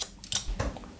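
Scissors snip through a man's long hair during a big haircut, a few crisp close cuts spaced across a second with no talking.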